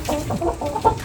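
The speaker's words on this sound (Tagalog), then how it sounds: "Yan ilang tandang yan." Roosters kept in a barn give a quick burst of close, loud clucking and crowing calls, alone with no speech.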